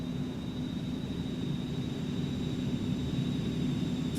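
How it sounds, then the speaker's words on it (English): Steady interior drone of an Eclipse 550 jet's engines in the X-Plane 11 simulator, a continuous even rumble and whine with a thin high tone, unchanging over a few seconds. "Let's turn up the engine noise just a little bit."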